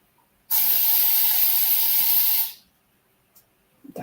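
An aerosol can of bee spray fires at a wasp in one loud, steady hiss lasting about two seconds, then cuts off abruptly, leaving near silence with a few faint knocks.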